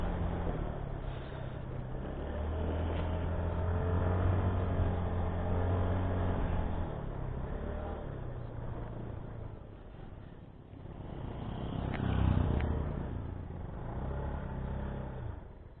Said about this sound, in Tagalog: Maliit na motor pero pumapalag.